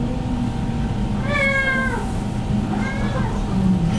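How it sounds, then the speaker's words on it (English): An old 15-year-old cat meows twice nearby, a longer drawn-out meow followed by a shorter, fainter one, over a steady background hum. "This is my cat, Caesar."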